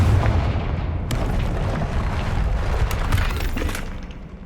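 A Confringo spell explodes in the video game Hogwarts Legacy: a loud, booming blast with crackling debris that rumbles on steadily for several seconds, then tails off.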